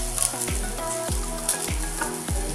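Green chillies with garlic and cumin sautéing in a pan for a Kolhapuri chilli thecha, a dense close sizzle with repeated rhythmic spatula knocks against the pan.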